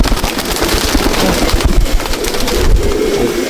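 Andhra and Malwai pigeons in a loft, restless birds cooing and fluttering nearby with flapping wings and scuffling throughout, loud and busy.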